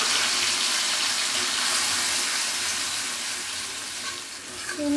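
Spice masala frying in hot oil with bay leaf for a broiler chicken curry, giving a loud, steady, close sizzle that hisses on without pause.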